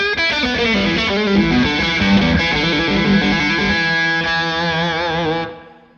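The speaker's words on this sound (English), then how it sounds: "So when I use the V30 distortion sound" Electric guitar driven through the V30 channel of a Victory V30 The Countess amp, an aggressive, wiry, toppy distortion playing dense sustained chords and riffs, loud and alone, ringing out before cutting off near the end.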